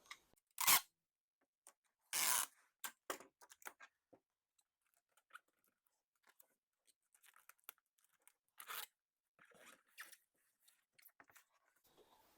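Packing tape is torn and pulled in short, sharp rasps across a cardboard vinyl record mailer, with quiet crinkles and taps in between as it is pressed down; no talking.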